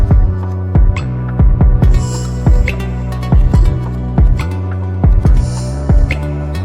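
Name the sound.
punchy kick drum in a beat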